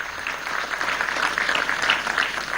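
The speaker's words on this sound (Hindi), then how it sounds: "जोरदार तालियों के साथ, करताल ध्वनि के" An audience claps warmly to welcome a director, producer and actor at a Kashmir event, a dense, continuous burst of applause close by with no voices.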